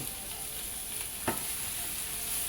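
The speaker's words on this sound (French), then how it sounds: "Un peu de poivron rouge qui vient du congélateur aussi. Voilà. C'est bon comme ça suffit. On va mélanger." Frozen red pepper fries in a pan with a constant sizzle, broken once by a single sharp scrape of a spoon stirring it, close by and with no voices.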